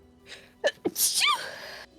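A single close, loud sneeze with a short sharp intake of breath before the burst, followed by a fading exhale.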